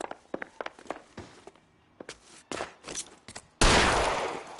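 Gunshots in the detective video game L.A. Noire: a scattered series of sharp in-game shots and thuds, ending in a sudden loud burst that rings out and slowly fades.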